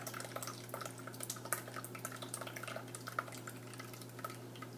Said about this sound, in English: So I'm straining the kefir that I made, and the colander, the mesh strainer here, is catching the grains.